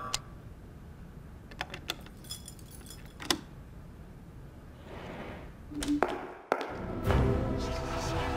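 Keys jangle in the video game Off the Record during a room-key handover, sounding as brief metallic clinks and taps scattered over quiet ambience, with a fuller rattle near the end.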